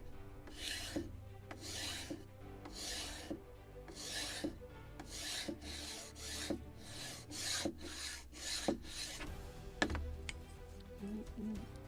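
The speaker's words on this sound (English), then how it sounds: "I also can use for this just sanding block because it's perfectly flat." A sanding block rasps back and forth along a wooden spar for a 1776 gunboat Philadelphia model kit, making a steady series of about a dozen close, dry scraping strokes with no talking.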